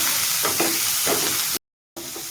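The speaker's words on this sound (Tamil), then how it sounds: "வெங்காயம் போட்டாச்சுங்க. இங்கே பாருங்கள், வெங்காயம் வதங்கிடுச்சு." Onions sauté in a hot pan with green chilies, curry leaves, garlic and ginger, giving a steady close sizzle and hiss with brief stirring scrapes and a short break near the end.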